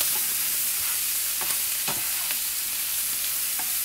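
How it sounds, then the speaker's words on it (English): Chorizo sausages fry in a pan with a loud, steady hiss and sizzle, close up and unbroken, dotted with small spatters and faint crackles. "Just pop that into our pan. And I'm going to fry those off for around about 4 minutes or until golden."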